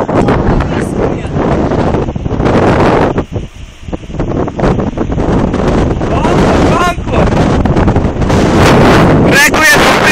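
Heavy wind buffets the microphone in loud rumbling gusts that ease off briefly before surging again, with a voice speaking through it.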